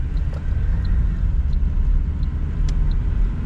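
The engine of a Suzuki Grand Vitara runs under light throttle with a steady, loud low rumble and drone, heard close and without talk.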